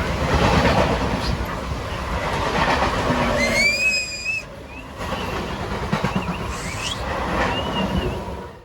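A passenger train rumbles steadily along the rails with a continuous roar and faint clatter, a few high whistle-like squeals rising briefly partway through.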